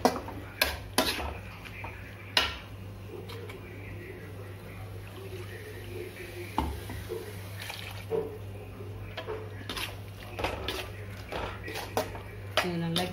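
A spoon scraping and clinking against a pot as ground coconut and poppy seed paste is stirred into a cauliflower kurma, with intermittent sharp clatters over a low steady hum and someone talking throughout.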